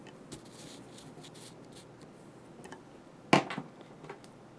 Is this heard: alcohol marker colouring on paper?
yes